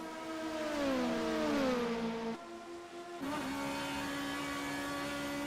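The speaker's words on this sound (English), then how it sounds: "Listen to that engine scream as they head up the hill, deep into the brakes, down to 3rd gear" A stock car engine in a racing simulator at Interlagos screams at high revs, its pitch sliding down as it brakes and drops gears, then climbing again after a brief dip, loud and continuous with no talk.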